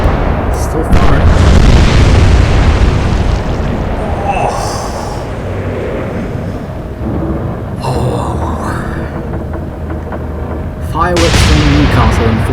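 Warship guns fire in the Atlantic Fleet naval strategy game during a Royal Navy versus Kriegsmarine battle: loud, continuous, overlapping booms and rumbling blasts dominate throughout, with brief sharper bursts late on.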